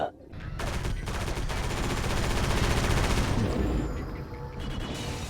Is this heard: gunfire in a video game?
yes